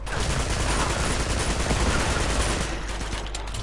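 Gunfire in Uncharted: The Nathan Drake Collection, a dense, continuous burst of automatic shots and explosions filling the whole moment, loud and close.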